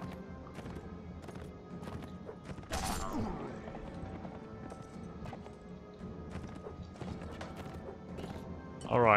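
Horse hooves clip-clop through a Mount and Blade: Warband battle, a steady run of hoof hits under clashing combat noise, with a sharp crash near the end.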